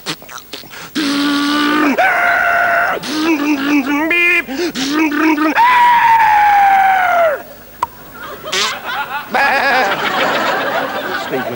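A single voice imitates an Alfa Romeo revving, screeching tires, crashing off the road into a sheep, and the sheep's bleat, in a rapid, theatrical comedy-sketch sequence.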